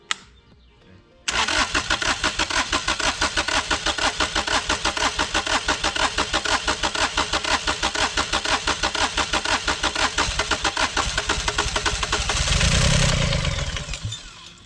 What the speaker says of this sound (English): Maybe I should run the glow plugs while it's cranking.